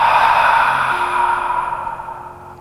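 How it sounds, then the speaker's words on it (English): A deep exhale through the mouth during a hatha yoga breathing exercise for anxiety: one long, airy breath out, loud and close, fading gradually over about three seconds. "And this time, breathe out of your mouth."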